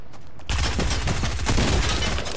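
Rapid bursts of Fortnite gunfire crackle in a dense, continuous volley after a brief quieter moment, loud and sharp.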